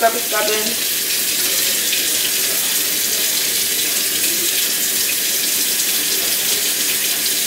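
Steady running water pours from a tap while shampoo is rinsed out of dyed hair, a constant broadband rush lasting throughout, close and fairly loud, with no speech.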